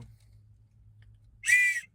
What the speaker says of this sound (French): Petit sifflet pour le jour de la compétition.